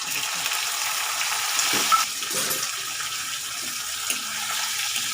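Garlic, green chillies, curry leaves and tomatoes fry in hot oil for a cauliflower curry, giving a loud, continuous hissing sizzle that surges briefly when something is stirred or dropped in, with no voices.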